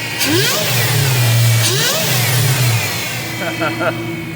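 Supercharged 2003 Infiniti Q45 Premium V8 revving up and down in a couple of rising and falling sweeps, then settling to idle; loud and close, with people talking over it.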